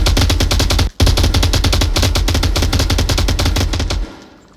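Rapid automatic gunfire in the VR shooter game Onward rattles out in a loud, nearly continuous burst, broken by one brief gap, before cutting off and fading.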